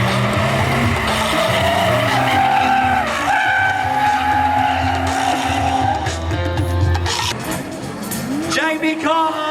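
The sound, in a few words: BMW race cars skidding at a car show race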